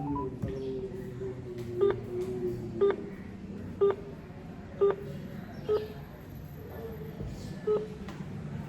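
A series of short electronic dialing beeps on a phone call to a busy number, about seven evenly spaced tones over a steady low background hum, fairly quiet.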